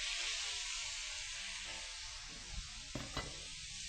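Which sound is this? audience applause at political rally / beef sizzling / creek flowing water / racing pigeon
beef sizzling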